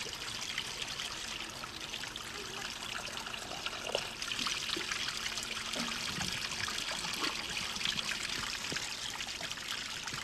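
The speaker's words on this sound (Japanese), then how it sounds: "真水が湧き出ていました。" Fresh spring water trickling out of the ground on a small island, a constant close, gentle babble and splash with no voices.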